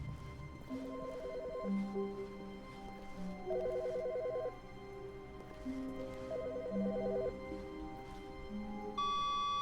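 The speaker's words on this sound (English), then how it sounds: "I hear a phone." A telephone rings repeatedly inside The Stanley Parable video game, with evenly spaced electronic ring bursts over soft ambient game sound and a tone near the end.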